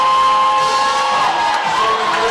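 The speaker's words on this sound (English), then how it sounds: "And the Doniphan fans come to their feet." Home crowd at a homecoming-night high school basketball game rising to its feet, a loud, continuous wall of cheering and whooping from the stands that stays dense and sustained throughout.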